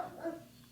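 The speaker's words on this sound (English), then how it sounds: "Sorry, that's my dog." German Shepherd security dog barking faintly in a single short woof, heard alone at a distance.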